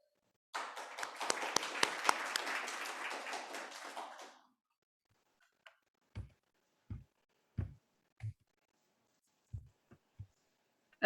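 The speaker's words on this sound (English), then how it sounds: "please join me in giving a round of applause" Applause from an audience, a dense burst of clapping for about four seconds that fades out, followed by a few scattered thumps and taps.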